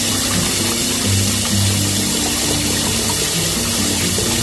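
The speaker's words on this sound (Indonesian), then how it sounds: "Kita contohkan ini kerannya" Water running steadily from a tap into a fish pool inside a home, a loud, close, continuous splashing rush with no pauses.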